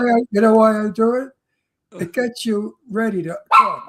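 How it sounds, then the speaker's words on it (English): A pet dog barks during an interview show, with a few short, sharp barks mixed in among a man's close, loud talking. "That's my dog. My dog agrees."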